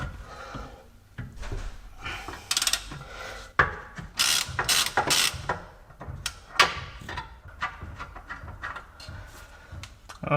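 A ratchet on a long extension with a knuckle works a bolt on a Jaguar S-Type rear suspension during a teardown, giving repeated sharp clicking bursts with pauses and metallic clanks, close and clear.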